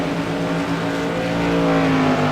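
Modified race cars roar around Martinsville Speedway during a CRA Modified Madness Tour race, a loud, steady engine drone that rises slightly in pitch and intensity as the cars power through the turns, with no voices over it.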